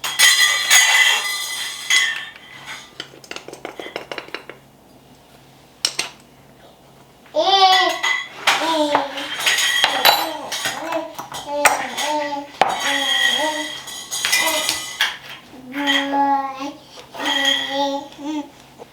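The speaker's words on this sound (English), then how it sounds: "I'm just going to measure my spices into this little into this bowl here" Spices are measured into a small bowl in a home kitchen, with light clinks of a spoon against the dish heard close by under lively talking voices, including a child's.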